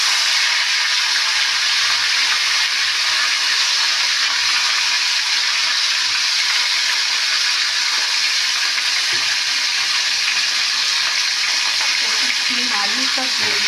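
Cauliflower frying in hot oil after fish, a loud, dense, continuous sizzle close up, with faint stirring near the end and no talk.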